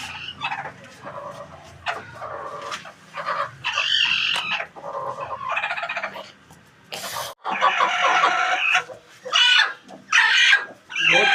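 Chickens cluck and squawk in a steady, busy chorus at close range, with an occasional crow-like call rising above the flock.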